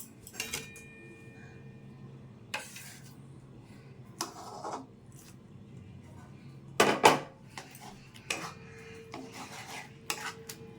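Soft chhana (cottage cheese) being mixed by hand for malai sondesh, quiet rubbing and squishing with a few sharper clinks of a bowl, intermittent against a faint background hum.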